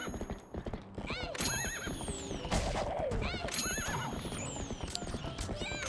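A ghostly horse in a Zelda video game whinnies loudly several times, its shrill neighs rising and falling over steady clip-clopping hooves and busy game sounds.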